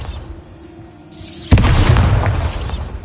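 A Bombarda spell explosion in the video game Hogwarts Legacy, a single loud booming blast that erupts suddenly and rumbles on with a crackling, debris-like tail after a quieter buildup.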